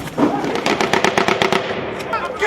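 Rapid automatic gunfire in a firefight in a Mali town, a fast run of sharp close shots that stutters for about a second and a half before trailing off, with a voice speaking over it.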